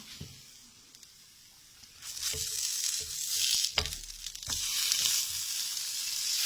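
Green spinach cutlets (hara bhara kebab) sizzle and crackle in a little oil in a pan, close up, with the frying swelling louder after a quiet start and occasional soft stirring sounds.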